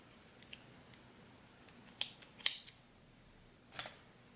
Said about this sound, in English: just cut off my yarn